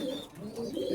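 Pigeons in stacked loft cubbies, housed in pairs with chicks and eggs, coo softly and continuously in a low throaty warble, close and steady through the brief moment.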